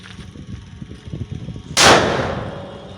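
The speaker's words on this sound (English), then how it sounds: "It didn't go inside due to its huge size and blasted at the mouth of fuel tank" A large firecracker blasts at the mouth of the fuel tank of a Honda CD 70 motorcycle: one loud, close explosion after a stretch of faint fizzing, followed by a long fading rumble.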